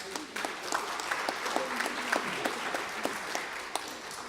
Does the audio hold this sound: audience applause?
yes